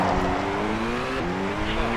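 Subaru rally car in Colin McRae Rally with manual gears, its engine droning steadily and shifting pitch as it accelerates, loud and continuous with gravel and road noise underneath.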